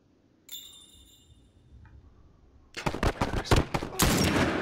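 Gunfire in The Last of Us, starting with a lone ringing shot, then a quick burst of loud, close rapid shots that keeps building into a heavy volley.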